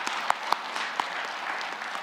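A church congregation at an early morning prayer service applauds the choir, steady clapping with a few sharper, nearer claps standing out, filling the sanctuary for a couple of seconds.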